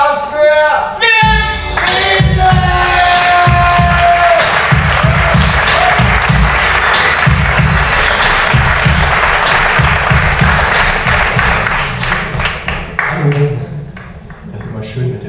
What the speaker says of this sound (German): Applaus für Sven!